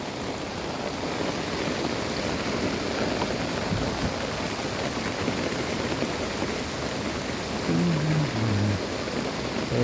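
Heavy rain pours down steadily on a village, a loud, dense, unbroken hiss of rainfall close by that lasts throughout without a pause.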